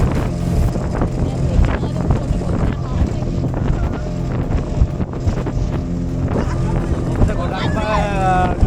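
Speedboat ride off Pigeon Island near Trincomalee heading into the waves, a loud steady engine roar mixed with heavy wind buffeting, with a voice speaking over it.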